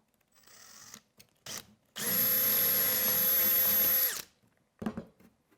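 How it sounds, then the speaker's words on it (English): Power drill boring a second hole in a vehicle intake part, one sustained high whine of about two seconds at close range, framed by quiet handling clatter before and after. "now we'll drill the second hole on this side"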